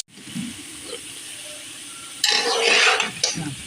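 Pigeon curry is stirred in a kadai, a soft scraping at first, then a louder burst of sizzling and scraping as the spoon moves through, with a brief clatter.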